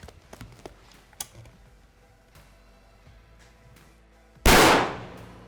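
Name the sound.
rifle shots fired at 100 yards, ELD-X bullets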